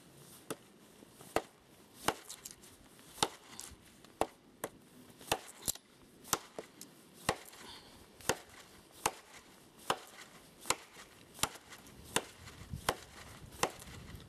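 Aspen wood split with a large knife outdoors on a winter snowshoeing trip, about twenty sharp, close chopping strikes landing at a fairly steady rhythm, with no talk between them.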